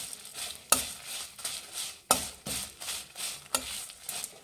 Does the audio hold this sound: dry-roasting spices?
yes